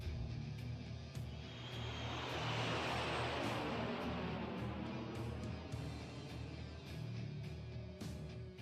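An airship lifts off in the Tales of Xillia video game, its engines building into a broad, steady roar that swells and holds with a low rumbling drone underneath.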